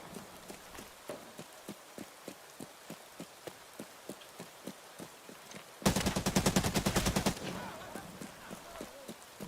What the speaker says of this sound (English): I'm just gonna shoot my gun a little bit